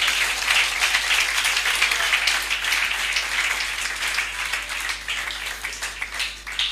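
A church congregation claps together in dense, sustained applause that swells and slightly thins over several seconds, loud and close, with no clear voices above it.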